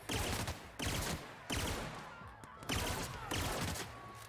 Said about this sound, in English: Bring out the people killing gun.